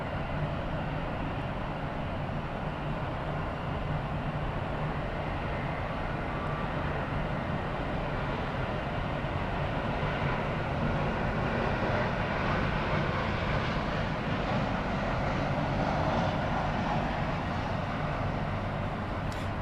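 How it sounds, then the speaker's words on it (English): Air Canada Rouge Airbus A321-200 from Toronto at Miami Airport, a continuous broad jet engine rumble heard from a distance, steady and unbroken throughout. "And this is Rouge, Air Canada Rouge, flight 1644, service from Toronto on a 321-200"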